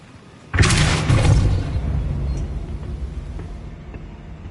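A Depulso spell blast in Hogwarts Legacy on PS5 goes off as one sudden loud boom after a quiet moment, then rolls into a long rumbling decay that slowly fades.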